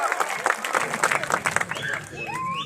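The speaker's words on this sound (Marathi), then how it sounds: "त्या सर्वांनी हात वरती वर टाळ्या करा" A crowd applauds at an outdoor wrestling bout between Sikandar Shaikh and Manjeet Khatri, a dense patter of many hands clapping, with a shrill whistle and a rising cheer near the end.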